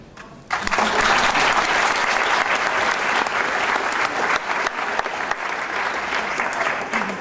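An audience at a Rotary Club conference breaks into loud, sustained applause that starts abruptly and keeps up a dense clatter of many hands throughout.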